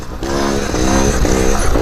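A trials motorcycle engine revs and surges as the bike rides through whoops, the pitch rising and dropping in repeated waves over a loud continuous drone with wind noise.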